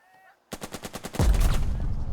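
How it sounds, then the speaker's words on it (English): Tank cannon and machine-gun fire in a World War II combat game: a rapid string of sharp bursts, then a heavy booming blast with a rumbling tail, loud and close. "I think I'm going to start by just blasting away at this unit."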